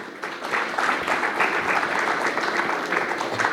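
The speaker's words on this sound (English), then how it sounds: "Big round of applause, everyone." An audience at a corporate panel discussion applauds steadily, a dense, sustained wash of clapping from many hands that holds at an even level throughout.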